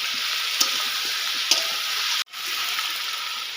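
Omelette mixture of beaten egg with turmeric and salt fries in a pan, giving a steady hissing sizzle broken by two brief clicks. The sound cuts out sharply for a moment, then resumes.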